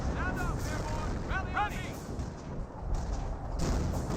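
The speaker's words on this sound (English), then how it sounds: "Good AT gun shots there on these Panthers." Anti-tank gun shots from Company of Heroes hitting Panther tanks, heard as heavy booms and blasts inside a constant battle din, with a voice-like layer running through.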